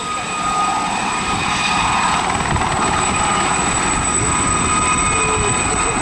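An Aérospatiale Gazelle helicopter at the 2019 Southport airshow gives a steady, loud, high-pitched whine from its engine's compressor intake over a continuous broadband turbine roar.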